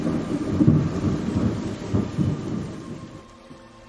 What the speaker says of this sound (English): A lightning bolt arced across the sky.